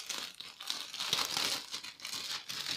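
Plastic packaging around a size-92, 100% cotton children's t-shirt crinkles and rustles continuously as it is unwrapped, close and steady with small crackling bursts and no talk.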